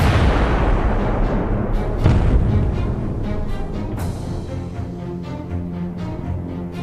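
Gunfire on a transport ship in the naval wargame C:MANO, a dense rumbling barrage of booming shots with a heavier blast near the start and sharper reports later, continuous and loud with no speech.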